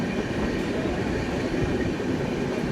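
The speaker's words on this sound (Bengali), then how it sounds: "চিল্কার পাশ দিয়ে এখন আমাদের ট্রেন যাচ্ছে, অপূর্ব সুন্দর।" Amravati Express passenger train running beside Chilika lake in the morning, a steady, moderately loud rumble of wheels and carriages with faint rail clatter, heard from on board without talk.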